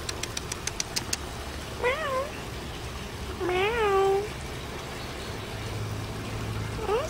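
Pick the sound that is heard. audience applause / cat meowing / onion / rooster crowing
cat meowing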